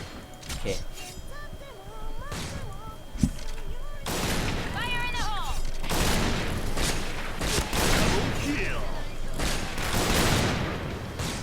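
Sniper WA2000 shots in the video game Point Blank, several loud booming reports spaced seconds apart with game noise between, while someone talks over it.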